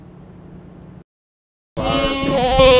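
Meat goats bleat in a Texas Hill Country pasture, a low rumble giving way after a short silence to a loud, wavering, close bleat that swells toward the end.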